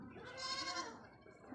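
A goat bleats once, a short wavering cry at moderate distance, amid quiet household background.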